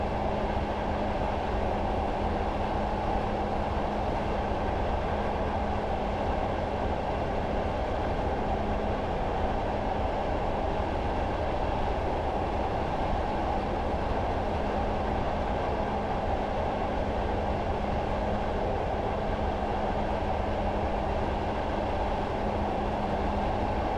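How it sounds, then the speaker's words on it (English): A train in Train Simulator 2016 coasts with power idled on a route between Durham and Darlington via Bishop Auckland, giving a steady, even rumble of wheels and running gear throughout with no voices. "I am then going to idle the power and allow the train to coast."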